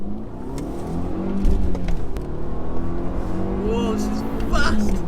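Mitsubishi Colt sleeper accelerating hard through the gears in a street race against an Audi S3 8P at a car meet, a loud sustained engine drone with rising revs, people talking and shouting over it.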